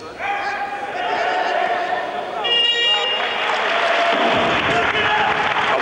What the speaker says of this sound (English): Bravo, and lots of applause